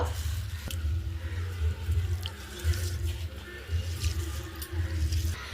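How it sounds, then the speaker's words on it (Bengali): A kilogram of fried-rice grains is washed by hand in water, giving a continuous close sloshing and swishing with a few small splashes and drips. "চালটাকে আমি ভালো করে কিন্তু ধুয়ে নেব"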